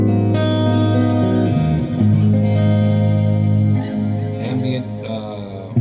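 Sustained electric guitar chords through a Polychrome McLaughlin Suite Afterglow ambient pedal swell and shimmer, smeared by heavy modulation and lush reverb so the notes blur into one another.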